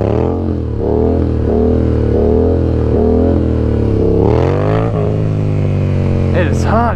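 Yamaha MT-07 motorcycle engine revving during wheelie stunt practice, a loud, close, rasping drone that rises and falls in repeated throttle blips, climbing sharply near the end, with wind buffeting and a rider talking over it.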